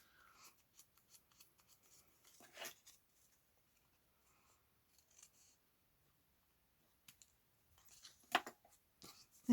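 Scissors cut and trim a piece of card in a few separate snips. The crisp blade clicks are quiet and close, with small rustles and handling noises in between.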